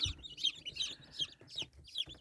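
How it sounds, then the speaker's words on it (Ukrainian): A cluster of about forty newly hatched Lohmann Brown chicks in a brooder peeping and chirping close up, quick high calls overlapping in a busy, steady stream. "вилупилися курчатка Ломан Браун"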